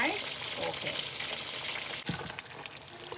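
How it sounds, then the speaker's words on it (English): Steady hiss and crackle of fish frying in hot oil, close by, with a brief clatter partway through. "All right, so right now my fish is frying."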